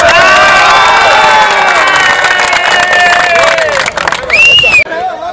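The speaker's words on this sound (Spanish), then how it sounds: "¡Un aplauso para todos!" A loud stadium crowd at the Estadio Pascual Guerrero cheers and shouts in a roaring wall of voices with high whistles, clapping mixed in, and a sharp cut near the end.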